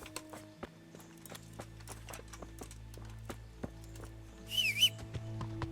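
Roach the horse from Kingdom Come: Deliverance approaches with steady, near hoof clops over low game ambience, and a short high whistle rises near the end.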